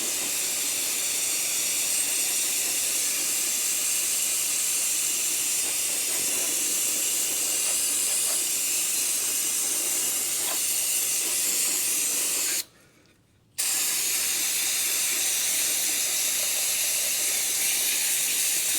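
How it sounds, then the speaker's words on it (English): An aerosol can of brake cleaner sprays steadily and loudly at close range while 1949 engine parts are prepped, hissing almost continuously with one brief pause partway through. "Let's try some brake cleaner. Oh, brake cleaner seems to work better."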